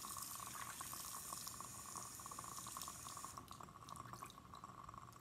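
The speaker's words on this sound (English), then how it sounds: "So I'm gonna rinse that out now that I'm done with that." Tap water runs steadily into a sink while a glass graduated cylinder is rinsed out in a school lab, a continuous splashing flow heard up close with the pitch shifting slightly near the end.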